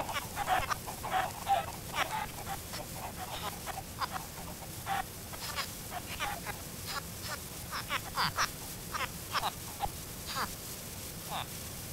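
Chickens in a video game are attacked by ocelots, giving a rapid run of short squawks and clucks that repeat steadily throughout, moderately loud against a busy background.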